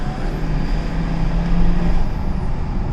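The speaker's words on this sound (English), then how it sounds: "This car doesn't make much noise, but the fucking turbo spool on a diesel" Diesel Volkswagen Touareg heard from inside the car as a steady, moderately loud low drone with a faint rising turbo whine, continuous for the whole stretch and with no talking.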